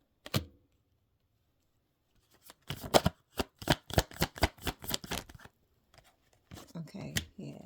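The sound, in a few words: shuffling tarot cards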